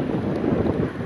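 Wind gusts steadily across a hillside trail in fog and light rain, a dense, continuous rushing buffet against the microphone with no talking.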